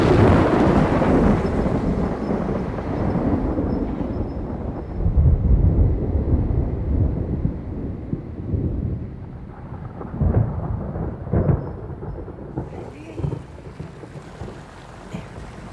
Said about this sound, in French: La tempête se rapproche.